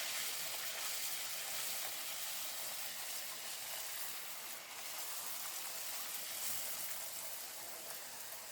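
Pumpkin vadai frying in hot oil, giving a steady, bright sizzling hiss that stays fairly faint and continuous throughout, with no voices over it.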